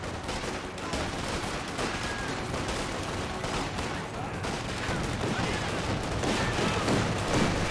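Grenadier squads trade rifle and machine-gun fire in Company of Heroes 2, a dense, continuous battle din of overlapping shots, with a voice talking over it.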